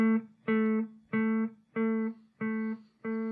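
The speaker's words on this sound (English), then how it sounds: "It's a delay type that's going to make it bounce from left to right," Ambient guitar through a ping pong stereo delay, one clear plucked tone repeating six times in an even bouncing rhythm, each echo ringing briefly before the next, heard alone.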